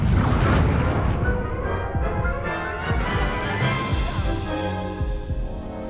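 Spell explosions in the video game Hogwarts Legacy, heavy booming blasts with rumbling decays and layered crashes in quick succession, loud throughout.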